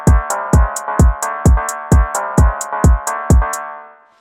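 A basic phonk beat built in FL Studio pulses with booming bass kicks in a steady rhythm, while crisp hi-hat ticks fall between them over a sustained melodic layer, loud and alone, fading out at the end.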